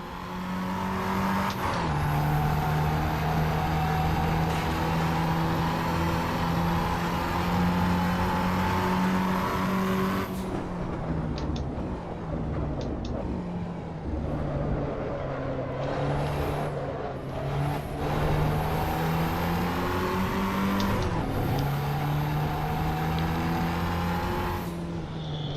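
A race car in the Assetto Corsa EVO driving game, its engine holding long high steady notes that drop sharply on gear changes and braking, then climb again, loud and continuous with no talk.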